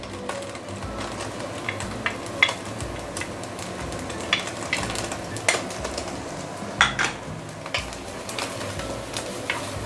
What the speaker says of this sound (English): I'm going to saute ginger and garlic first.